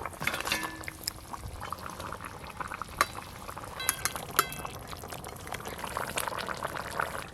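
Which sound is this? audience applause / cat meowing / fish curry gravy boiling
fish curry gravy boiling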